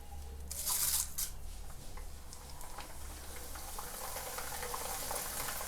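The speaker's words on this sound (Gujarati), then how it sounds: "હવે પૌવાને તળી લઈશું।" Corn flakes (poha) frying in hot oil at home, a steady crackling sizzle with a louder hissing burst near the start as they hit the oil, then continuous fine bubbling alone.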